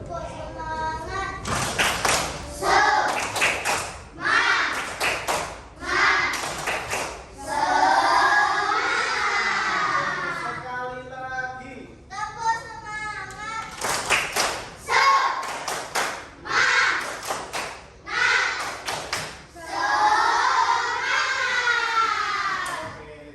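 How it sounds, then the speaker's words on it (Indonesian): An Indonesian school class performs a led spirit clap, tepuk semangat, with bursts of rhythmic group clapping alternating with children chanting in unison, repeated in several rounds. "sekarang kita sama-sama tepuk semangat yuk"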